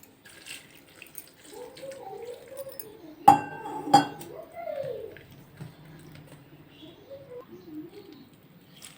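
Cold water poured from a tap or jug onto soya chunks in a bowl while making soya chunk pakoda: a soft, steady trickle and splash, with two sharp clinks of the bowl partway through.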